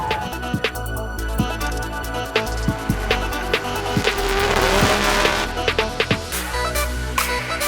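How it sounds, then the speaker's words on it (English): A Nissan 200SX S15 Formula Drift car at a 2019 pro drift event, engine roaring steadily with intermittent tire squeal and sharp popping transients, loud and close throughout with no talking. "I'm driving the Nissan S200 SX S15"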